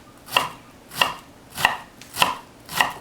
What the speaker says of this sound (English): you want to come across and you want to cut through here 2 or 3 times.